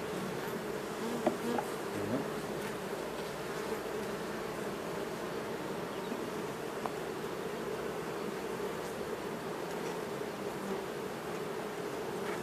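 Dense, continuous buzzing of many bees at an open hive during a queen cell inspection, a steady drone filling the space with occasional louder passes of individual bees nearby.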